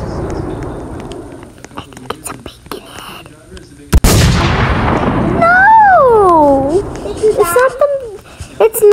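A single sharp gunshot cracks out loud in the Roblox murder-mystery game, followed by a decaying rush of noise, while children talk and whisper before and after it.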